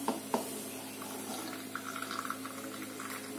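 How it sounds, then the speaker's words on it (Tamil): Boiled water is poured into a brass filter for Kumbakonam filter coffee at home, a soft, close trickle and splash with a couple of small clinks near the start, fairly quiet, with no voices. "இப்ப கொதிக்க வச்ச தண்ணி எடுத்து அதுல ஊத்திடுவோம்."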